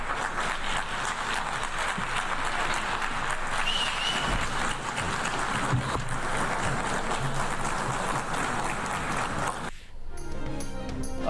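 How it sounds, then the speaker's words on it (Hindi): A hall full of attendees breaks into sustained applause for Shehbaz Sharif as he comes to the dais, thick, even clapping that continues unbroken before cutting off sharply near the end. "शहबाज शरीफ खिताब के लिए डाइस पर आए तो हॉल तालियों से गूंज उठा"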